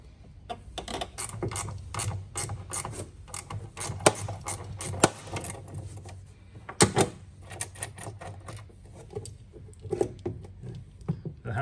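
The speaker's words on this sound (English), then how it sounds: "Next, we'll unbolt the handbrake. That's held in place with 2 13mm bolts." Ratchet clicking in rapid bursts as two 13mm bolts holding a car handbrake are undone, close and loud, with clanks of the tool and some metallic knocks between runs of clicks.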